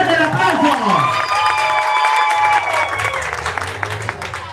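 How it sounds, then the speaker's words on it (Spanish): An audience at a bachata couples dance contest bursts into loud applause and cheering, with whistles and shouts rising over the clapping before it thins out. "¡Fuerte el aplauso!"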